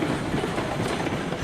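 Train in the Railroads Online game rolling fast down a steep grade, a steady loud rumble of wheels with faint rhythmic clatter throughout, no voices.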